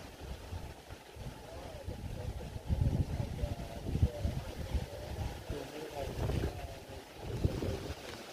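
Stormy wind gusts through the branches of a large tree during rainy weather, a rough broadband roar with irregular surges, heavy microphone buffeting and low rumbles, steady throughout with voices faintly underneath.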